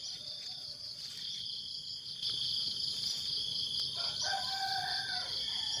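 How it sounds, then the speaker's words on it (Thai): A rooster crows in the distance over a steady chorus of chirping insects, with no voices present. "เพราะว่าแถวนี้มีไก่นะครับ"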